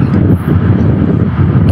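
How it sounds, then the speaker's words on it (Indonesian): An electric fan runs close to the microphone, a loud low whooshing drone with slight fluctuations throughout the moment. "Enggak, itu suara kipasnya Bunda itu."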